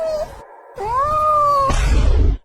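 A cat lets out a loud, drawn-out yowl that rises and wavers in pitch, ending in a rough, noisy burst.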